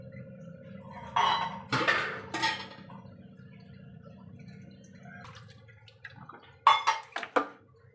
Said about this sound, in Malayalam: മിക്സിയുടെ ജാറ് കഴുകി ഇത്തിരി വെള്ളം കൊടുക്കും.